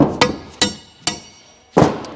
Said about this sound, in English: You might need a little tap with a hammer.